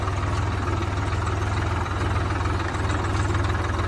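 A new 454 4x4 tractor engine running steadily with a loud, throbbing low rumble and a regular knocking pulse while working a dry field, close and continuous with no speech.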